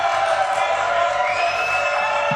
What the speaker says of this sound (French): Applaudissements donc pour Emmanuel de Boisson.